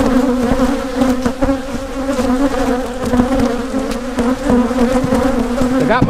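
Honey bees swarm noisily around an opened hive during a hive split, a dense, close, continuous buzz with pitch wavering as individual bees fly near, heard alone without talk.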